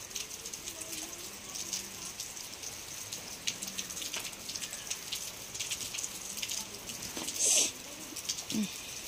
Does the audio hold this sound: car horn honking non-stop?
no